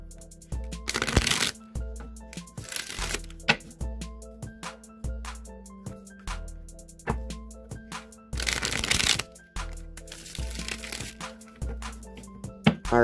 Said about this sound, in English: let's just shuffle these a few times